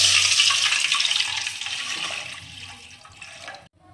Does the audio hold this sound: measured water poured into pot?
yes